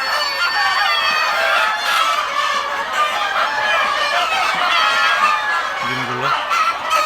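Parent hens and roosters on a farm in cold weather, including large Banraj roosters, cluck and call loudly and continuously nearby in a dense overlapping chorus, with a brief low honk-like sound near the end.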